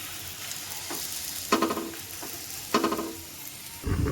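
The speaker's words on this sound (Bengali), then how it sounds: "এবার এই পিঠটা এভাবে ভালো করে সেঁকে নেব" Chana dal paratha fries in a pan with a soft continuous sizzle, broken by a few louder spatters and scrapes as it is pressed and turned; nobody speaks.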